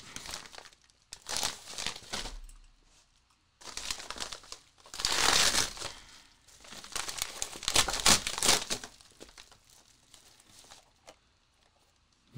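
A large envelope crinkles and rustles in several irregular bursts, close and fairly quiet, with brief pauses between handlings.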